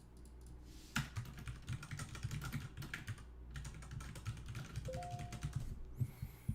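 Typing on a computer keyboard during a JavaScript coding session, a steady rapid patter of soft close key clicks that runs continuously with no talking.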